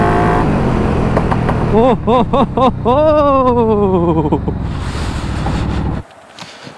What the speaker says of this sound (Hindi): ये थी हार्ले स्पीड 750 जो मॉडिफाई की है उसकी टेस्ट राइड